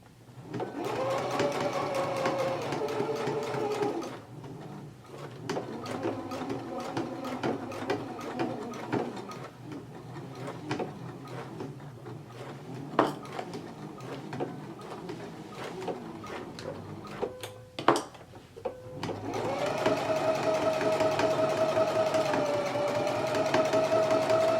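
Domestic sewing machine stitching a pocket onto a jacket in several runs of rapid whirring needle chatter, broken by pauses with clicks and handling noises before a final sustained run.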